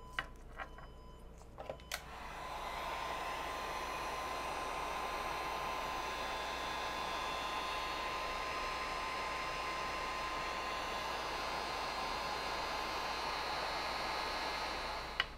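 A heat gun blows steadily for about thirteen seconds, shrinking a heat shrink label onto an RCA to XLR adapter cable, a constant airy whoosh with a faint hum, preceded by a few small clicks and handling noises.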